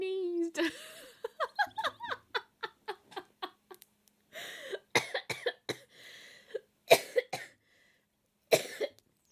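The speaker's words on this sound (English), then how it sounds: "I laughed so much that I coughed" A streamer bursts into rapid rhythmic laughter that turns into a string of sharp, close coughs and throat clearing, the bursts separated by short pauses.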